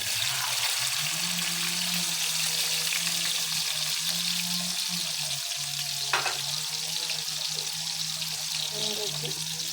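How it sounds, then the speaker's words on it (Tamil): Small onions and mustard seeds frying in hot oil, with a loud, continuous close-up sizzle and a low steady hum underneath. A brief clatter comes near the end. "எண்ணெய் சூடாயிட்டு சின்ன வெங்காயம் போடுறோம்."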